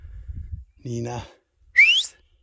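Outdoors in the countryside, a person whistles to call goats. One sharp, rising and falling whistle rings out clearly after some low rustling and a brief voiced sound.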